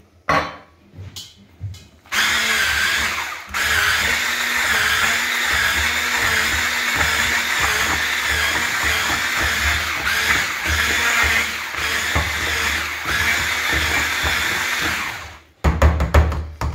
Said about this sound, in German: deswegen habe ich jetzt den elektrischen Schneebesen. Und damit machen wir jetzt ein richtig schönes Püree